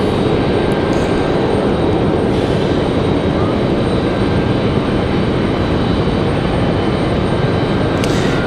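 A Delta Connection CRJ regional jet arriving from JFK at Raleigh-Durham airport gives a loud, unbroken engine roar lasting several seconds, heard alone without speech.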